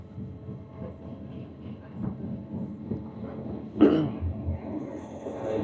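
A train on the Bernina Pass line in Switzerland rumbles low and steady from inside a carriage, with a brief cough-like burst and faint voices in the background.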